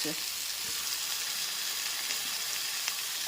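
Eggplant and ridge gourd pieces frying in a pan over a medium-high gas flame, a loud, continuous oily sizzle holding steady throughout with a few light scrapes.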